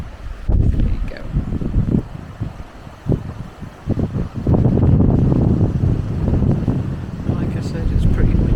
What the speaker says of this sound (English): Like I said, it's pretty windy.